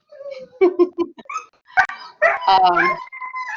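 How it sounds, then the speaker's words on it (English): A puppy whimpers and yips in several short, high, wavering bursts, then gives a louder run of barks and whines near the end, fairly close in a lecture room. "So somebody's got a puppy."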